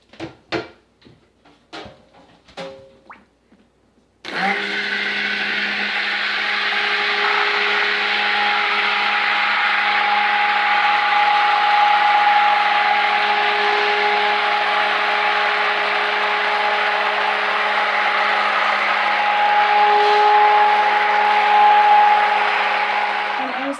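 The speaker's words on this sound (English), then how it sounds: "I'm going to take the stick blender to it" A stick blender whirs steadily for about twenty seconds with a steady motor hum, mixing melted palm oil for soap making, following a few brief knocks and clatters at the start.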